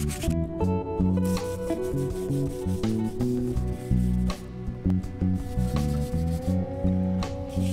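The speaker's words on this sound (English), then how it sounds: "let's give it a light sanding" Sandpaper rubs back and forth over a painted surface in an engine bay in steady, repeated strokes, close up, with no talking.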